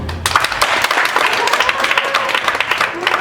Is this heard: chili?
no